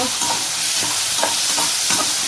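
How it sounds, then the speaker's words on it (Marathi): Onion frying in oil with green chillies while being stirred, a steady bright sizzle broken by several short scraping clicks of the spoon against the pan. "त्यानंतर मी चांगला असा कांदा फ्राय करून घ्यायचा"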